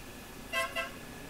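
Two short honks from a tricycle horn on a rural road during a motorcycle ride, a pair of quick bright toots in close succession over light road noise.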